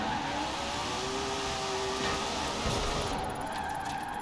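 Car engine in the Forza video game holding a steady drone while drifting downhill through a mountain drift zone, with a faint tyre squeal and a slight rise in engine pitch near the end, loud and continuous.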